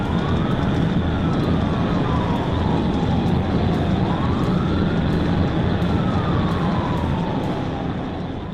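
Wailing police car siren sweeping up and down continuously, loud and steady over heavy road and engine roar, heard from a trooper's vehicle during a high-speed chase of a speeding Impala crossing a bridge.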